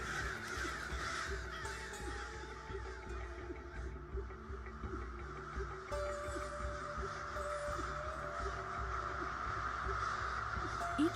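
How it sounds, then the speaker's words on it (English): Large flocks of crows caw constantly at a huge fall roost near the farming community of Chatham, Canada, a dense overlapping chorus of harsh calls that continues without pause, with a voice speaking over it. "hundreds of thousands of migrating crows join local flocks to create one of the biggest roost sites in the world"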